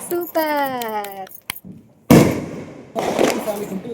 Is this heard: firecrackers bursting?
yes